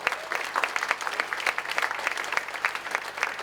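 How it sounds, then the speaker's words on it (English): An audience at a campaign rally for a governor's race breaks into warm, dense applause, many hands clapping at once in a lively, sustained burst. "Y'all give these small business owners a round of applause."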